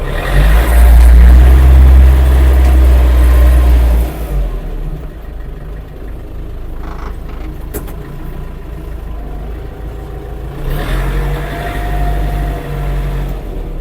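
A Scout 404 tractor engine running in fourth gear while reversing: a loud low engine roar for the first few seconds, then a quieter steady idle-like rumble with a brief rise near the end.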